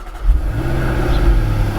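A 2019 Jaguar F-Pace SVR engine rumbles into life, a loud, steady low-pitched drone that swells after a brief start and holds a deep, even idle with no voices.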